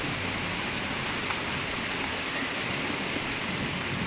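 Steady, dense monsoon-style downpour in a village, heard from a window, a broad even hiss with no gaps, close by.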